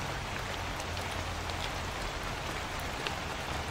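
Steady rain in a video game, an even, dense hiss of drops falling without pause, close and moderately loud, with no voices over it.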